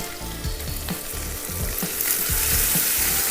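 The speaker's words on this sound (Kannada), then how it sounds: "ಆ ಆಯಿಲು ಕಾದ ತಕ್ಷಣ ಈರುಳ್ಳಿ ಹಾಕಿದೆ" Onions fry in about three spoons of hot oil with a dash of turmeric, a loud dense sizzle close up, with light rhythmic scraping underneath.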